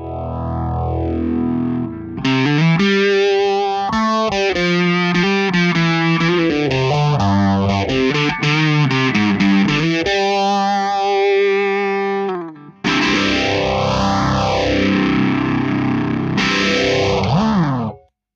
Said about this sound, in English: It'll just sound like a phaser into a lovely fuzz